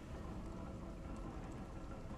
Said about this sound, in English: Ooh, I like the rain effects